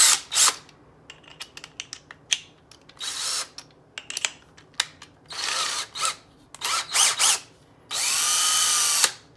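Power drill spinning a threaded rod during restoration of a rusty file, heard as several short revving bursts and one longer sustained whir, mixed with clicks and handling noise.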